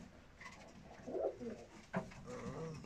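Pigeons coo inside a pigeon loft that holds young birds, giving a few soft, low, throaty calls close by against a quiet background.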